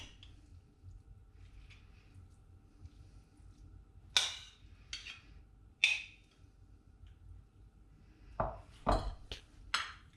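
Vegetables for a Mediterranean couscous salad being tossed in a bowl, soft quiet mixing with several sharp clinks of a utensil against the bowl, more of them in a quick cluster toward the end.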